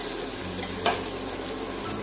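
Orange peel sautés with turmeric and curry leaves in a pan, giving a steady close sizzle and one brief sharper crackle or stir partway through, with no voices.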